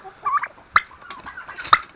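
Turkeys gobbling on a farm where hens feed, several bursts of gobbling at irregular intervals, close and fairly loud.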